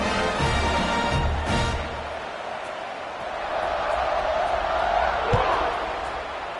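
Stadium crowd in a college football video game roars steadily throughout, a broad sustained cheer that swells and eases, with a sharp thump near the end.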